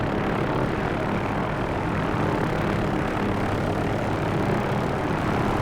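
An OH-6A helicopter hovers in the DCS flight simulator, a steady, unbroken engine and rotor drone that stays even and loud throughout with no voices.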